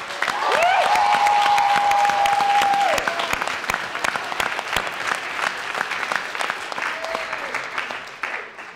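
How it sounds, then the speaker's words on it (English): A crowd breaks into dense, sustained applause that carries on for several seconds, with a brief high whistle near the start. "give a very, very warm round of applause"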